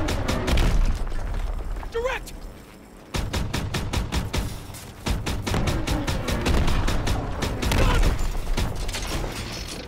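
Rapid, loud bursts of World War II gunfire from Call of Duty WWII fire as steady automatic shots, broken by a brief pause before the shooting resumes.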